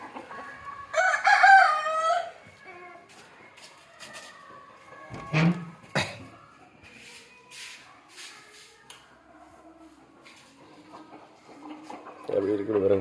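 Free-range country chickens cluck around the coop while a rooster crows loudly near the start, followed by scattered softer clucks and shuffling, with a voice briefly speaking.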